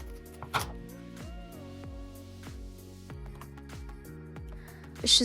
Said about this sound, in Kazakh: Грамм болгар бұрышында 4 бұрышты етіп тураймыз.